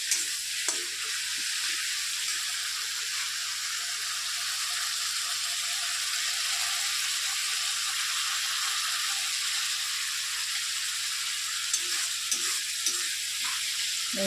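Spice paste fries in hot oil in a pan, giving a steady, close sizzling hiss that holds for the whole stretch, with a few faint stirring scrapes near the end.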